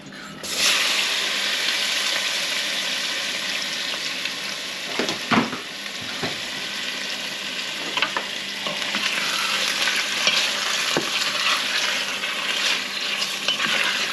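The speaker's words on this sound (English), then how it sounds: "Sizzling meat." Loud, continuous sizzling of meat in a hot pan, with occasional scraping clicks from stirring.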